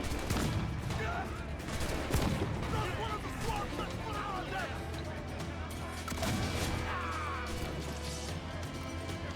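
Ship cannons firing in the naval pirate game Assassin's Creed IV Black Flag, a few heavy booming shots amid a dense, loud battle din of crashes and gunfire, with someone talking over it.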